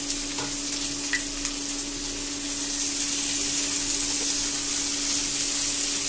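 Peas and carrots sizzle in a hot pan for savory vermicelli, a steady close frying hiss with faint stirring clicks and no talk.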